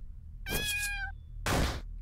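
A cat meows twice in the video game LISA, a clear tonal mewl followed by a short rougher second cry, fairly quiet and isolated with no talk.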